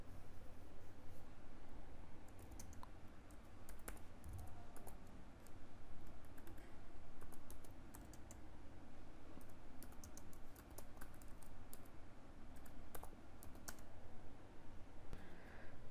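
A letter being typed on a computer keyboard in Word, with steady, quiet, rapid key clicks running continuously through the scene at close range and no talking.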